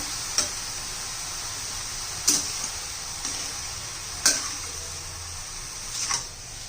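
Spinach cooks with green peas in a pan with a soft steady sizzle, broken by four sharp spoon scrapes and taps against the pan at roughly two-second intervals.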